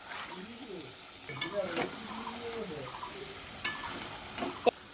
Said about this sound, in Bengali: এখন মেরিনেট করা মটনটা দিয়ে দিচ্ছি